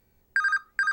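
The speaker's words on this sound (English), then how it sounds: "and that's my phone" A mobile phone ringtone rings during a live broadcast, two bursts of a bright electronic warble with a short gap between them, loud and close with no talk over it.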